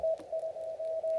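Amateur radio contact during a solo park-to-park activation: a steady, fairly loud single-pitch CW carrier tone, broken by a few short dropouts, holds over a soft hiss of background noise as the fading signal comes back up.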